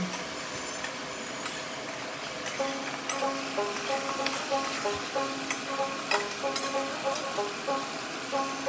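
Dried Bombay duck fish with vegetables and chilli sizzles steadily in hot oil in a pan, with a continuous close frying hiss punctuated by occasional clicks of stirring.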